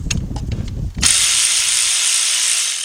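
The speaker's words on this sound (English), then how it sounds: "take your 16mm shallow with your cordless ratchet" A cordless ratchet fitted with a 16mm shallow socket spins out bolts on a GM timing chain job, a loud steady whirring ratchet run of almost two seconds after a short rattle of handling at the start.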